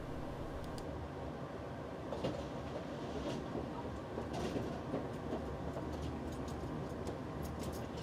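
Amtrak Sunset Limited passenger train rolling east on rails near El Paso, by the Mexican border, heard from inside as a steady, close, broadband rumble with faint rhythmic clicks throughout, no voices.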